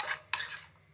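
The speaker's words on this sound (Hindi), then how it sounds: "इन तमाम चीज़ों को अच्छी तरह से कर लेंगे मिक्स" Spoon stirring red chili powder and sugar into a BBQ sauce in a bowl, two short scraping, clinking strokes close by, the second sharper, then fading out.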